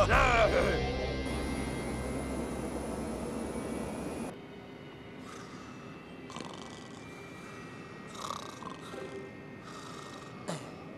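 A cartoon airplane roars loudly for about four seconds in a football-themed animated show, then cuts off abruptly. Softer effects and brief sounds follow underneath.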